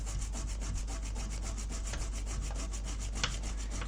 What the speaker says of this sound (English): There's still a bit of flux, and I don't like to keep a flux on it, so rub it more.